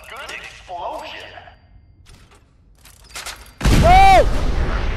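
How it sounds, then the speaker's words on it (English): A loud, booming blast erupts near the end, with a rising whistling tone, following quieter game sounds and clicks. "Who doesn't love a good explosion?"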